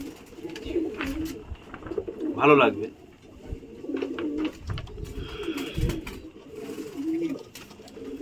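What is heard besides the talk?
pigeons cooing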